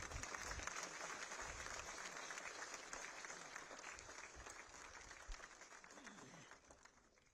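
Sustained applause from the audience at a plenary session of an Indian Navy seminar, a broad wash of clapping from many people that starts strong and gradually fades, with faint voices mixed in.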